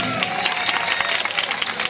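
Audience applause at a Malayalam comedy stage show, a short, dense burst of clapping from a crowd with faint cheering, steady and loud throughout.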